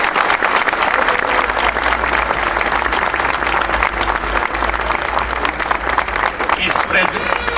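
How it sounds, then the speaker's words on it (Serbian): A large crowd of lawyers at a street protest bursting into loud, sustained applause, dense clapping filling the whole stretch with a low rumble beneath. "Predlažem da jednim gromoglasnim aplauzom pozdravimo koleginice i kolege iz Vojvodine."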